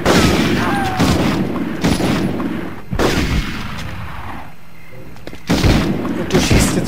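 Gunfire in the PS1 game Medal of Honor, heavy booming shots in quick clusters with short lulls between them, loud and close in a dense mix.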